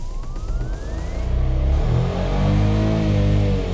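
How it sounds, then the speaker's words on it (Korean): Kia Ray light car engine revving while parked, the pitch climbing and then dropping back, a steady mid-loud drone with a rising whine at the start. "RPM 오르고 내리고 확인해 드리겠습니다."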